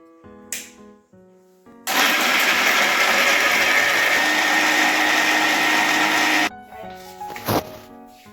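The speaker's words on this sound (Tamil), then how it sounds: "வலுவலுன்னு நல்லா வலுவலுன்னு அரைச்சிருங்க, நல்லா நைஸாக அரைச்சிருங்க" A kitchen mixer grinder grinding cashew nuts to a fine paste for paneer butter masala, one loud continuous whirring burst of about five seconds, started and stopped abruptly, with quieter clinks and handling noises before and after.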